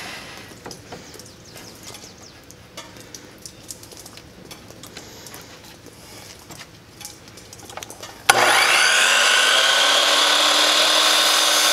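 Wooden boards for a farmhouse sign are cut with a power saw: quiet scraping and taps first, then the blade starts abruptly and runs at a loud, steady whine.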